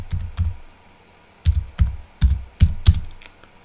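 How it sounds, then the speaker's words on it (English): Keys on a laptop keyboard are typed in short, close bursts of crisp clicks with brief pauses between the groups while a command is entered in the Windows 11 command prompt. "What we want to do now is type shutdown"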